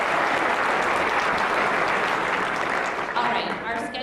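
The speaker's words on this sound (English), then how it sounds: "give everyone that in here today just a great big round of applause one more" A high school senior recognition assembly crowd applauds loudly and continuously, a thick wash of clapping that thins slightly toward the end, with a few faint voices mixed in.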